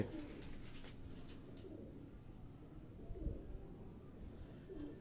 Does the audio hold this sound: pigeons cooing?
yes